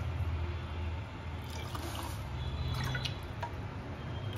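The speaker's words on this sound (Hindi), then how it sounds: "अब हम इसमें 4 कटोरी पानी और डाल देंगे।" Water is poured into a bowl of soaked sago for a papad recipe, heard as a soft dribbling, dripping trickle over a steady background hiss, with no voices.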